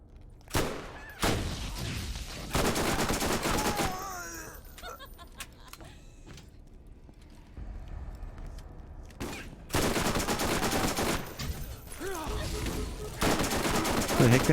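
Submachine gun fire in Borderlands, loud close bursts of rapid automatic shots in several volleys separated by quieter stretches with game effects and occasional groans.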